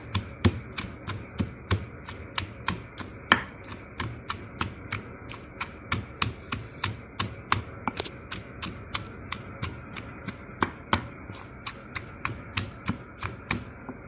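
Boiled straw mushrooms, left whole rather than cut, are pounded fine in a mortar: a long run of sharp, evenly spaced knocks, about two per second, close and clear with no talking.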